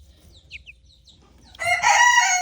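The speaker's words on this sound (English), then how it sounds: "Look at that chicken." Faint bird chirps give way to a loud, close burst of hen vocalizing, a harsh drawn-out squawking call rising in the final second.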